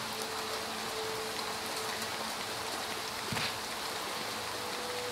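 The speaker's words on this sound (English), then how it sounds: "because I suppose it is raining, so it is logical to use a raincoat" Rain falls steadily in the video game Little Nightmares II, a constant soft hiss of drops with a faint low hum beneath and one brief louder knock partway through.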